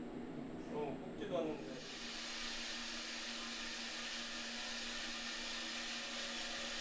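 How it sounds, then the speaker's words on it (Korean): A coffee roasting machine roasts green coffee beans, giving off a steady, even whirring hiss with a low hum that runs unbroken to the end. A voice talks briefly at the start. "서서히 온도를 올려 210도에 이르면 생두를 투입해 볶기 시작합니다."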